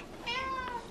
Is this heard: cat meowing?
yes